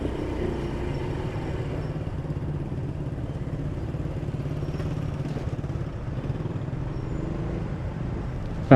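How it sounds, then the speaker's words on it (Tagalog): Heavy street traffic with cars, motorcycles and tricycles crawling along a congested one-way road with counterflow: a constant rumble of idling and revving engines, close and continuous, with faint clatter and no talking. "Grabe traffic talaga dito mga kapapsi."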